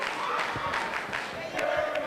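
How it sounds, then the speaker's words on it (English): Wrestling crowd at Turner Rec Center cheering and roaring continuously after a chair shot, a steady wash of voices with a commentator talking over it. "Crowd here at Turner Rec Center loves what they're seeing"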